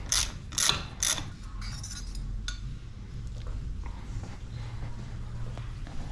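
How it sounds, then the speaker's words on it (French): A tool unscrews the Grip 2 damper cartridge from a Fox 36 Factory mountain bike fork: a few sharp ratcheting clicks at the start, then quieter metallic turning and faint mechanical rattles up close. "Là, je vais démonter la cartouche."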